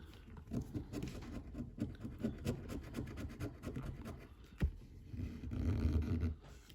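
Coin scraping a French FDJ lottery scratch card, a close, steady run of dry rasping strokes with one sharp scrape near the end and a louder patch of scratching at the finish.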